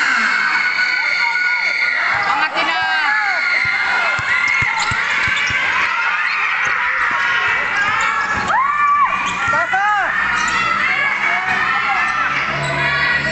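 A crowd at a junior barangay championship basketball game in the Philippines shouts and cheers loudly and continuously, with children's voices and whoops over a busy gym. A basketball bounces now and then, and an announcer talks over the noise.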